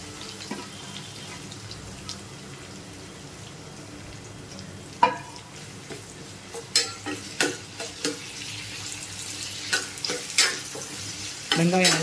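Chopped onions, with a green chilli already in, sizzle and fry in a pan for karuvadu (dried fish) thokku, while a spoon stirs and scrapes in a string of sharp clinks that grow busier toward the end; no one speaks.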